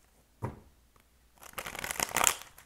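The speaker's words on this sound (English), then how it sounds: "Hold on, let me shuffle these cards really good." Tarot cards shuffled close by: a single soft slap, a pause, then a longer burst of rustling, riffling card noise that builds and stays fairly loud to the end.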